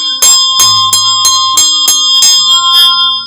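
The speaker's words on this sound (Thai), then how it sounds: "อันนี้ก็จะมีกระดิ่ง" A handheld bell used in a Brahmin ritual rings close and loud in a quick series of about seven bright metallic strikes, each leaving a sustained shimmering tone.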